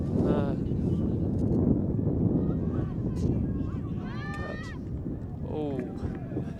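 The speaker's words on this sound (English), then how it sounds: "you can hear that wind picking up. Really gusting through now." Strong wind gusts across an outdoor ultimate frisbee field at a tertiary championship, making a continuous low roar and buffeting on the microphone beneath a voice talking throughout.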